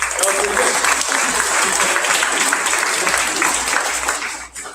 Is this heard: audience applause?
yes